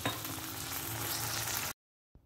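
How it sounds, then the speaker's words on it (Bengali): Cauliflower curry filling for phulkopir singara fries loudly in a pan with a dense, steady sizzle for almost two seconds, then stops abruptly into near silence, leaving only a faint brief rustle at the end. "তরকারিটা যখন ভাজা ভাজা হয়ে আসবে"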